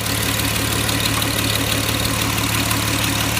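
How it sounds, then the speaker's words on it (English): A 1932 Oldsmobile engine idles after starting: a loud, steady, close mechanical rumble with an even low throb and no letup, no voices. "And we have a started 32 Oldsmobile."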